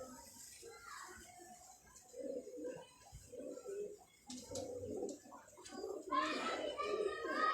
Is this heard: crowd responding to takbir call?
no